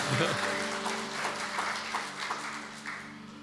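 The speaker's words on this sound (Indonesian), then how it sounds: "untuk Tuhan Yesus tepuk tangannya lebih menggelegar dong" Applause from a church congregation at a Sunday service rises under and after a preacher's voice, moderate and fairly distant, with speech continuing over the clapping.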